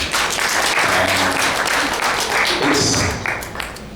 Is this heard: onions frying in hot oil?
no